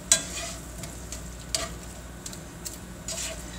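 Cauliflower pieces cooking in a pan for cauliflower bacon mac and cheese, a soft steady sizzle with a few sharp scrapes and clinks of a utensil stirring, close and fairly quiet with no talking.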